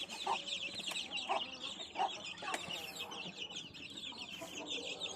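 Young chicks offered for sale peep and chirp continuously in a busy flock, with occasional clucks from nearby hens, heard fairly faint and without talk.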